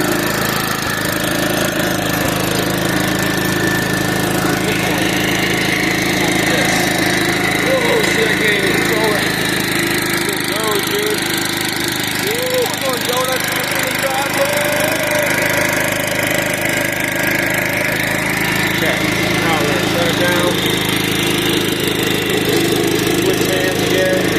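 A riding lawn mower with a hydrostatic transmission runs continuously, its engine droning steadily and fairly close at a constant pitch with a mechanical whine on top, and no pauses in the sound.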